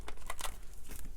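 A tarot deck is shuffled by hand, a dense run of quick papery riffles and crinkly flicks that fills the whole short stretch with no talk over it.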